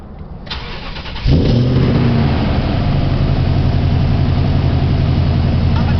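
Car engine cranking and catching after a tuned ECU file has been loaded, then settling into a loud, steady close-up idle with a faint rev at the start, no talk.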